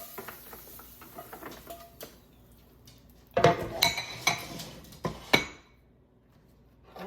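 Green beans going into a small pan in a home kitchen, starting with soft rustling and light taps, then a cluster of sharp metallic clinks and clatters of dishes and cutlery before things go quiet.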